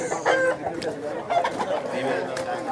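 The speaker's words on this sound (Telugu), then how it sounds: "ముద్ద జుట్టు కలిగినటువంటి కోడి పుంజు" A crested rooster, a heavy bird of three to four kilos, clucks in short bursts at a Vijayawada poultry market, close and moderately loud, mixed with other fowl and nearby people talking.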